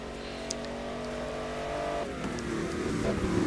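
Koenigsegg race car with a big Audi engine at Sebring, a loud engine drone rising as it accelerates, with tire noise building toward the end.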